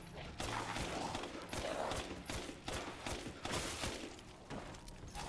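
Rapid gunfire bursts crackle in Resident Evil Village, several shots in quick succession with mechanical weapon noise, fairly quiet overall.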